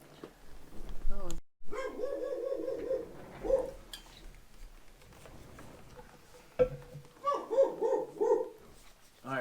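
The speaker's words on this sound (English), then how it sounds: "he's barking at the mailman currently" A dog barking at the mailman indoors, with bursts of excited barks and yips in two clusters separated by a quieter stretch, mid-distance and fairly loud, with a human voice briefly heard in between.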